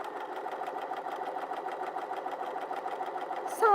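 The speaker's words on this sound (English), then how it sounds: "I just want to chill sew this on" A Bernina 350 sewing machine stitches piping in a steady, fast mechanical whir with an even rapid needle rhythm, close and alone, ending in a brief clatter.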